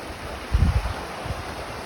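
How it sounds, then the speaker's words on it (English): Wind gusts across a lake in Temagami's Obabika area during a canoe trip, a low blustery rumble against the microphone with a brief stronger push midway, and no voices. "got a bit of wind coming in"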